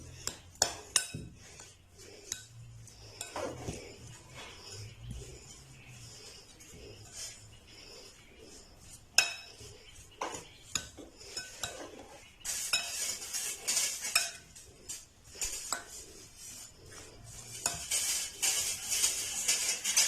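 Spoon mixing and mashing spices with salt into a paste for stuffed bread pakoda, scraping and clinking against a bowl in irregular strokes, getting busier and louder toward the end.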